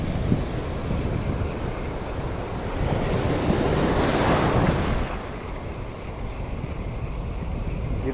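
Big ocean waves surge and wash around a small fishing boat at sea, with a steady roar, a louder swell in the middle, and wind buffeting the microphone.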